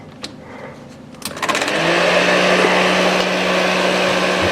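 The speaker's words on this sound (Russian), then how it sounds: "Я еще вот вентилятор здесь вот такой есть" An extractor fan in a garage smokehouse used for hot-smoking fish switches on with a few clicks and quickly spins up into a steady, loud whirring drone with a constant hum that fills the rest of the clip.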